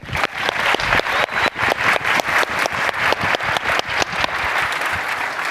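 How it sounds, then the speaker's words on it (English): Sustained audience applause for a keynote speaker at a 2024 media industry event, dense and steady clapping filling the room for several seconds without voices over it. "Please put your hands together for a dear friend and industry mate"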